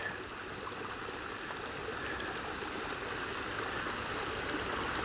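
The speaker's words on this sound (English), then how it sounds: "they got a nice waterfall here going underneath the railroad tracks" Small waterfall at a botanical garden pouring beneath miniature railroad tracks, a soft, steady rushing and trickling of water that continues evenly with no voices.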